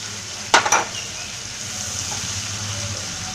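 Chicken curry spices are stirred into the pan: a brief scraping stir against a steady, gentle sizzle of frying that continues alone at moderate loudness.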